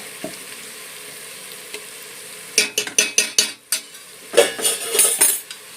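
Ginger garlic paste frying in a pan for avaré kalu pulao, with a low sizzle, then a run of loud metallic scrapes and clatters as a spoon stirs it against the pan.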